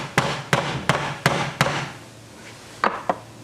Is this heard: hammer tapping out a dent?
yes